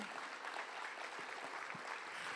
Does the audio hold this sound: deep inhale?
no